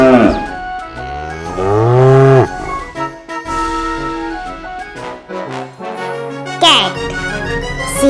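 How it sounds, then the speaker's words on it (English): A cow moos loudly and up close in a long drawn-out low call, followed by more lowing and bellowing calls in a cartoon about farm animals. "C-O-W. Cow."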